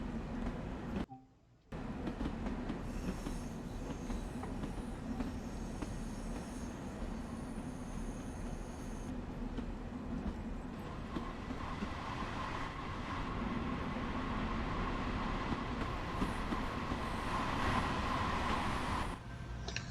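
An M3 commuter train set runs along the rails with a continuous low rumble and wheel noise, a brief drop near the start, then steady rolling sound that grows slightly louder toward the end.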